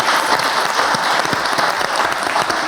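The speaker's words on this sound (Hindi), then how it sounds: "तालियां नहीं बजानी थी" Studio audience applause on a Pakistani talk show, loud continuous clapping filling the whole short stretch without pause.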